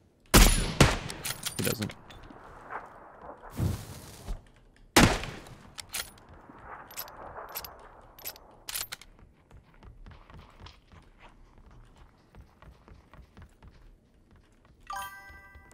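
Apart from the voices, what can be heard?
gunshots in the video game PUBG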